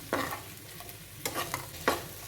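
A spoon scrapes and stirs honey chicken in a hot pan on a gas stove, four short scraping strokes over a faint background sizzle.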